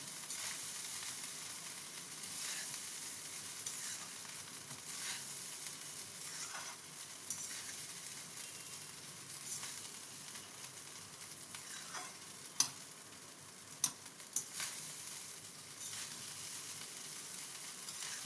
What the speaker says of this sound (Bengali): এরপর এটাকে আমি ভালো করে নাড়িয়ে নেব